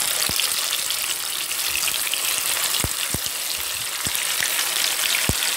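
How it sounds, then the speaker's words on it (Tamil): Chicken leg pieces fry in hot oil with a steady, dense sizzle, crackling broadly throughout, and a handful of sharp pops bursting out now and then; nobody speaks. "ஒரு பக்கம் வந்தோடனே திருப்பி போட்டு அதேமாதிரி எல்லா லெக் பீஸுமே நம்ம வந்து ஃப்ரை பண்ணி எடுத்துடலாம்"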